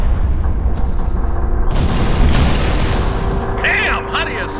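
Artillery fire in the Halo Reach video game, heavy booming blasts with rumbling explosions and whistling effects, loud and sustained, with faint radio-like sounds near the end.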